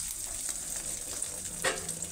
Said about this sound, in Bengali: ডিম ভাজা ঘ্রাণ আসছে